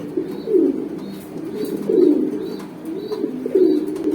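Pigeons coo repeatedly at a pigeon exhibition and sale, low throaty rolling calls arriving in regular bursts about every second and a half, fairly close and loud, with no talk over them.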